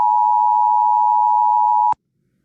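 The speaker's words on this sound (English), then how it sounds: "Here are some examples of some flat tones you might have heard." A flat, steady medical-device-style alarm tone holds at one pitch for about two seconds, then cuts off abruptly into silence, loud and close.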